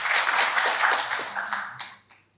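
Audience at a live podcast show in Paris clapping as an applause meter, a burst of dense clapping that thins out and fades to quiet at the end.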